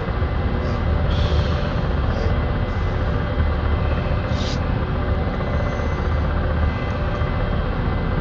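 Ka-50 attack helicopter engines spooling up in the DCS combat flight simulator, a steady, dense turbine roar and rotor rumble filling the scene continuously at high level with no pauses.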